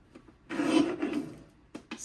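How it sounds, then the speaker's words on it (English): Paper trimmer slicing a strip of scrapbook paper, a short rasping glide of the blade across the sheet followed by a couple of quick clicks, close and fairly quiet. "Place it in the trimmer horizontally and trim at 10"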